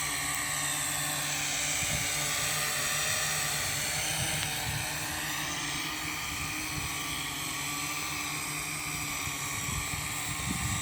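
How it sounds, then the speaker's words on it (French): An R'bird DMS240 Black Master drone flies outdoors over grass, its rotors giving a steady, high-pitched whirring buzz that stays loud and constant throughout. "Alors, on va essayer de suivre avec le drone."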